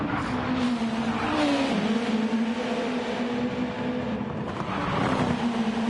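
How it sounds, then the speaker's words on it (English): A racing car's exhaust in Gran Turismo 7 at the Nürburgring 24h drones steadily at high revs, the engine pitch dipping briefly and rising again, loud and continuous with no other sounds. "Listen to the noise of that exhaust. Absolutely incredible."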